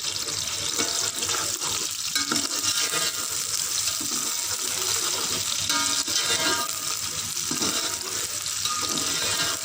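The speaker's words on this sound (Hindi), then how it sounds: "प्याज को हम अच्छी तरह से फ्राई करेंगे।" Sliced onions and green chillies fry in hot oil in a pan for pulao, giving a dense, steady crackling sizzle that stays loud and unbroken throughout, with no talking.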